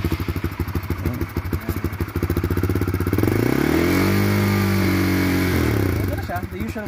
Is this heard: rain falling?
no